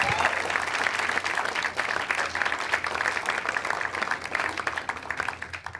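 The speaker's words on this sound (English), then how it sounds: "Give it up for Sabrina Matthews." A comedy club audience applauds a comedian being introduced on stage, with dense, sustained clapping at a steady level throughout and no break.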